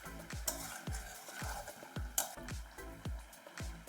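Mutton curry with potatoes is sautéed in a pan: a soft, close sizzle is broken by a rhythmic run of roughly a dozen spatula strokes and scrapes, evenly spaced across the clip.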